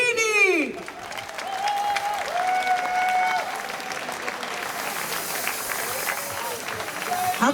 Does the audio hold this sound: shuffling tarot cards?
no